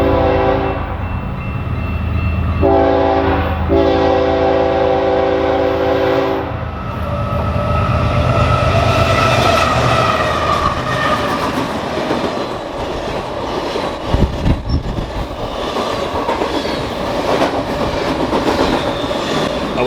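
A BNSF intermodal freight train, the Ellenwood, Illinois to Los Angeles QLPC, passes a station on the Marceline Subdivision in La Plata, Missouri at full track speed, sounding loud sustained horn blasts before the close, roaring rumble and clatter of its cars.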